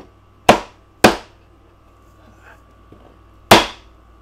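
A big hammer striking wood on an old-style traditional carpenter's toolbox: three sharp, loud knocks, two in quick succession followed by a pause and a third, with quiet between them.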